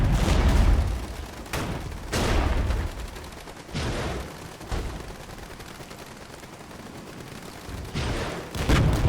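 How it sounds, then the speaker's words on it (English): M109 self-propelled howitzers fire in the Regiments video game, a run of heavy booming shots with rumbling tails arriving every second or two, loud and close, with no talk over them. "Oh, the artillery is instant there."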